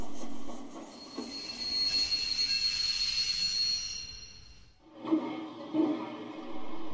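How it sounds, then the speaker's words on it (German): A passenger train from Neusiedl, hauled by class 375 steam tank locomotive no. 123 built in 1925 in Budapest, rolls into Pamhagen station with loud, sustained wheel squeal and rumbling, ending in heavy clanks near the close. "Einfahrt hat der aus Neusiedl kommende Personenzug mit der Lokomotive Nummer"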